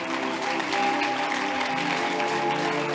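A congregation at a religious meditation service claps steadily in dense, sustained applause that fills the room from start to end, with no clear voices.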